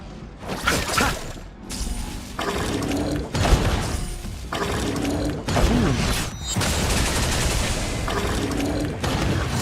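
Explosion and bursts of gunfire from combat in the video game Honkai Star Rail, loud and dense, with repeated sharp impacts and mechanical clatter over game voices and music throughout.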